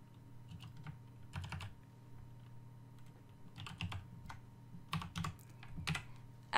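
Keys on a computer keyboard tapped in short bursts as a code is typed in, with a steady low electronic hum underneath and no talking.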